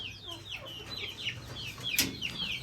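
A hen that is currently laying eggs clucks close by in a series of short, repeated calls, with a louder squawk near the middle over a quiet background. No one talks.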